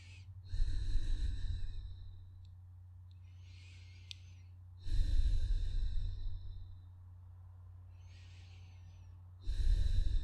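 Slow, deep breathing during a downward dog pose in a sun salutation yoga sequence: three long audible inhale-exhale cycles, each a breathy rush that fades before the next, close and unaccompanied by speech.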